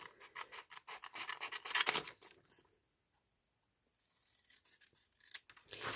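Scissors snipping through paper stamps for a junk journal, a run of close, crisp rhythmic cuts that stop for a quiet gap, then resume briefly.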